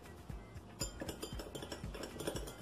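A spoon clinks lightly against a coffee cup of Kopi Luwak while a third of a spoon of sugar is stirred in, giving a run of small, close, irregular taps with no talk.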